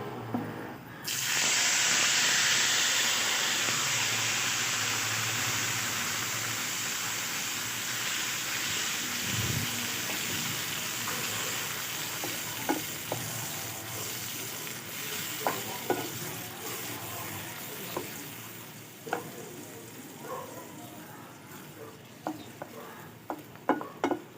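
Blended tomato paste poured into a hot pan for a tomato chutney, a loud hissing burst at first that settles into a steady softer sizzle, with spatula knocks and scrapes growing more frequent toward the end.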